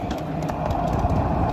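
Rolling ride aboard a 7.5 inch gauge miniature railway train pulling a flat/tank car on a mainline, a continuous close rumble with rhythmic wheel clicks and rattling, no talk.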